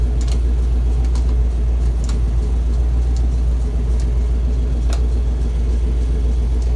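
A square body Chevy truck with a 5-speed and upgraded exhaust gives off a steady, close, deep exhaust rumble that holds at an even level throughout, with no talk.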